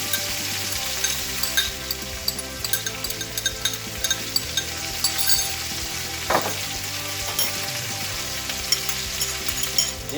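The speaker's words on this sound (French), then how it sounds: "Et on fait revenir le tout." Peppers, onions and garlic sizzle and fry steadily in a non-stick pan for paella, a close, continuous crackle with small pops and one brief stirring scrape partway through.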